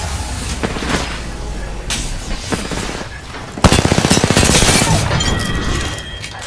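Automatic gunfire in the video game Apex Legends, loud close bursts of rapid shots forming a dense rattling volley that intensifies partway through, with no talking.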